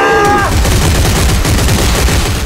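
Weapon fire from the sci-fi horror game Dead Space 3 rattles in a dense, continuous burst, loud and close, with a brief electronic tone at the start and no talk over it.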